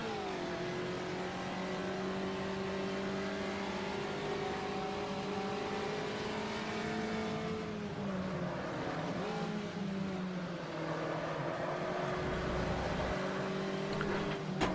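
A VW Fusca race car in the Automobilista sim at Curvelo holds its engine at high revs under steady acceleration, a continuous buzzing drone that dips briefly around a gear change before climbing again, with no talking.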